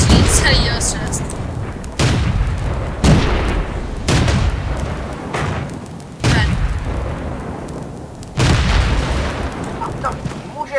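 Heavy tank cannon blasts in the video game World of Tanks boom at irregular intervals, about seven loud shots including a Matilda tank, each followed by a rumbling decay, with voices talking between them.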